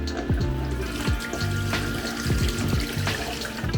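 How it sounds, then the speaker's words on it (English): Running tap water pours steadily into a sink while colour film is rinsed clear during home C-41 development with a Cinestill CS41 kit, a continuous close splashing flow with no talking. "Rinse until the water runs clear."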